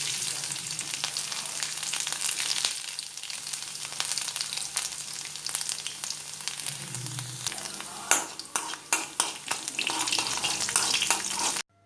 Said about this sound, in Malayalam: വെളുത്തുള്ളി ഒരു ചെറിയ ബ്രൗൺ ഷെയ്ഡ് ആകുന്നത് വരെ നമുക്ക് ഒന്ന് മൂപ്പിച്ചെടുക്കാം.